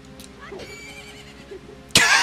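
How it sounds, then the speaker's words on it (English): A horse neigh sound effect plays as a rupee is picked up in the Majora's Mask video game, a short whinny near the start over quiet game audio, followed by an abrupt loud burst near the end. "A horse neighing."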